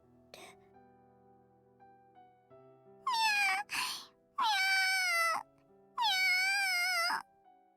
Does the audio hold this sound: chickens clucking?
no